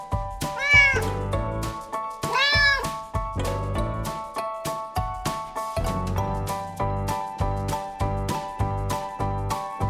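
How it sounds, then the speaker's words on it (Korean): A cat meows twice in drawn-out, rising-and-falling calls near the start, set against a steady tonal musical backing with a regular beat that keeps going after the meows stop. "cat,"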